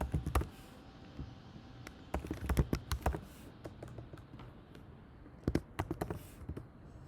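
Bursts of quick keystrokes on a computer keyboard while entering Python dictionary code, clustered taps with short pauses between runs, close and clear with no talking.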